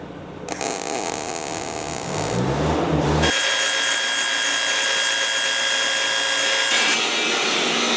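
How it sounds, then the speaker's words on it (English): Power tool making precision cuts into the front dumb iron of a rusty Series 3 Land Rover under restoration, a steady loud grinding whine running throughout, rising and intensifying after a brief start-up. "Liam is trying to do some precision cuts on that front dumb iron there"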